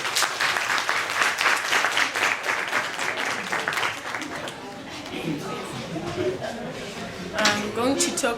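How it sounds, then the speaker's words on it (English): A class claps hands for a student coming forward to present on oral tradition. The dense, steady clapping lasts about four seconds, then thins out as talking takes over. "As she's coming, let's clap hands for her."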